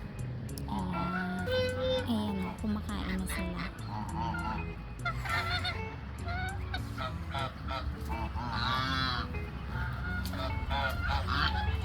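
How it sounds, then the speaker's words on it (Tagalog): Several Chinese geese honk loudly and repeatedly, their harsh calls overlapping in a noisy, continuous chorus nearby. "Chinese goose. Ang lalaki nila o."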